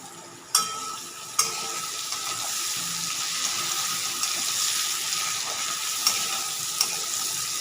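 A fish head fries in oil with a steady, even sizzle that holds throughout, broken by a few sharp clicks of a utensil touching the pan nearby.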